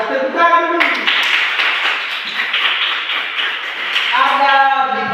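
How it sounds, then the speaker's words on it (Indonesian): Schoolchildren in a lower-grade classroom break into a burst of clapping, dense and close, with a teacher's voice talking before and after it. "Luar biasa, tepuk tangan dulu."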